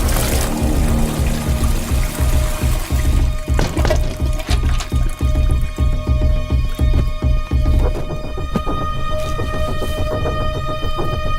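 A toilet in an office washroom flushes, a loud rush of water that churns and drains, settling into a hissing refill trickle near the end, with no talk.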